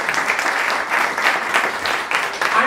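Audience applause for a math teacher at a school talk event, a steady wash of many hands clapping for the whole stretch, fairly loud and close, with no talk over it.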